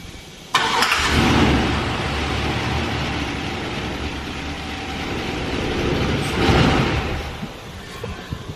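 A van engine with a freshly rebuilt 4L80 transmission cranks and catches with a sudden burst, then settles into a loud, steady idle, with a brief rev partway through.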